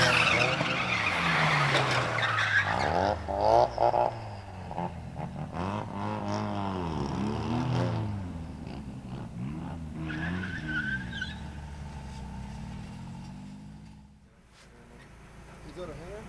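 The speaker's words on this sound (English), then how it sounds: "He spun out and then I clutch kick coming up." During a drift session, a car's tires skid and squeal as the car spins out, with long wavering screeches and engine revs that fade toward the end, and people talking over them.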